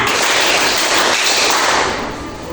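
Schoolchildren in a madrasah ibtidaiyah class doing a rhythmic clap-five routine: a thick, loud mass of clapping that holds steady and then tapers toward the end.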